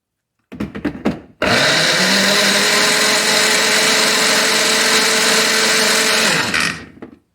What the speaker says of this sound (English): Now I'm just going to throw in the garlic and onions and blend that